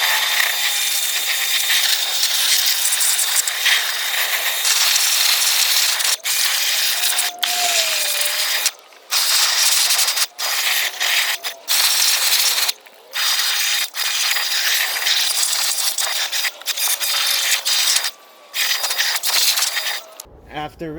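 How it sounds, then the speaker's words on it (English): Loud, steady hiss of a pressure washer rinsing a car engine bay up close, broken by frequent short pauses as the trigger is released. "get your pressure washer and just go ahead and rinse away"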